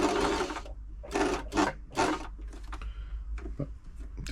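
Brother LS 2125 sewing machine stitching without a stitch length adjustment: loud close mechanical whirring in several bursts, each starting and stopping, followed by quieter clicking and ticking of the mechanism.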